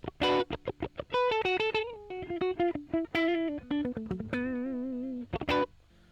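Electric guitar played close through a Fender Bassman amp simulation with a 6-inch speaker cab sim, giving a slightly fuzzy, boxy tone: quick picked notes and short riffs, then a sustained note ringing out before final strums.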